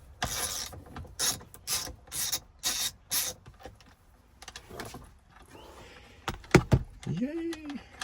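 A ratchet wrench with a 12-point socket loosens a truck bolt, giving a string of quick rasping clicks in short bursts up close, followed by metallic clanks and a squeak.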